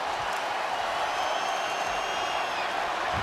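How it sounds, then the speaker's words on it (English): A packed college football stadium crowd at a Colorado vs Kansas game roars steadily and loudly throughout, a dense continuous wash of cheering with no clear speech. "Here comes the crowd."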